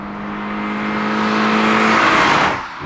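Toyota GR86 2.4-liter flat-four engine revving up loudly and cleanly, a rising steady drone climbing in pitch, then easing off near the end.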